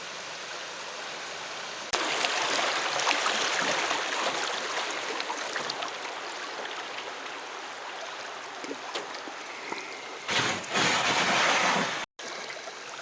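Pigeon Creek in Alabama, near Highway 24, flows past a canoe as a steady, close rush of water, with brief dips near the end.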